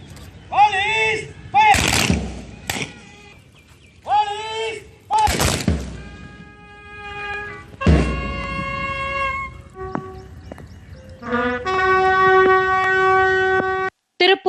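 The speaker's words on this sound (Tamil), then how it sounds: "துப்பாக்கி குண்டுகள் முழங்க அஞ்சலி" A police gun salute honouring fallen officers at a memorial pillar, with several sharp loud shots ringing out between stretches of someone talking, ending in a long sustained tone.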